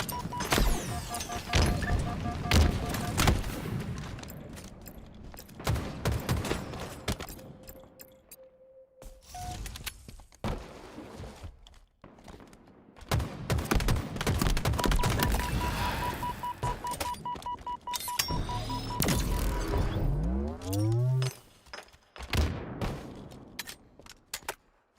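Gunfire in a Halo multiplayer scrim, with bursts of rapid shots and crashing impacts coming and going, interspersed with electronic beeps and brief quiet gaps.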